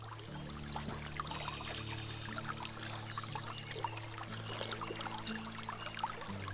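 Steady flowing water in the medieval countryside of the game Medieval Dynasty, a continuous soft wash under a low ambient hum, with no voices.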